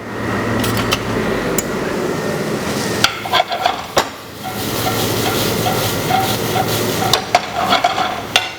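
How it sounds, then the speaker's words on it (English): Diced smoked chicken and chicken breast sweat in a hot pan with a loud, steady hissing sizzle, punctuated by occasional knocks and clatters of a utensil against the pan. "So that's nicely sizzling away."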